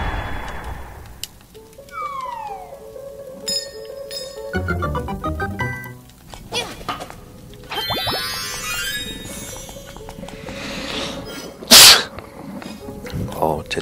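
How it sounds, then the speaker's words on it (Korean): A sneeze bursts out late, a short sharp blast over Legend of Zelda: Link's Awakening game music full of jingles, chimes and boings, with a voice talking throughout. "재채기가 나서 죄송합니다."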